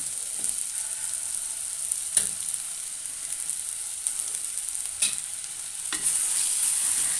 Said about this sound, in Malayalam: ആ കയ്പ്പയ്ക്കയും കൂടി ഇട്ടിട്ട് നമുക്ക് ഒന്ന് വാട്ടിയെടുക്കാം